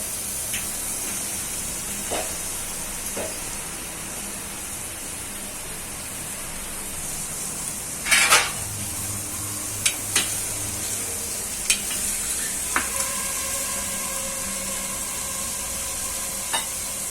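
Washed eggplant and potato pieces drop into a hot frying pan for Bhogi vegetable curry: a constant oily sizzle, a sharp burst of spatter as the pieces land midway, then scattered clinks and crackles.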